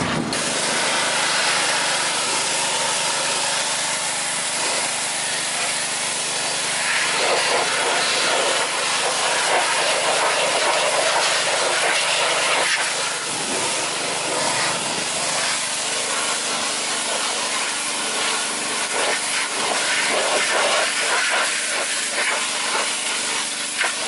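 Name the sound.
aerosol oven cleaner sprayed from a can onto tires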